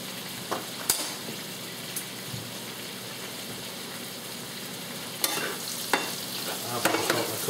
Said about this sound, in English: Turn all the pork chops. I'm not letting them burn or anything like that. I'm like just more or less slow cooking them.